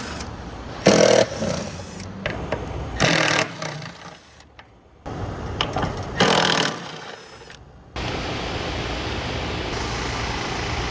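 A power tool backs out the bolts securing an AC compressor to the bottom of its shell. It gives three short, loud buzzing bursts with quieter clatter between them, followed by a steady, even mechanical hum.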